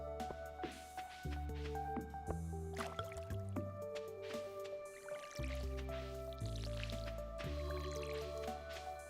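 Crops being watered in the video game Stardew Valley, with soft repeated drip and squishy splash effects over steady background game music, quiet and close.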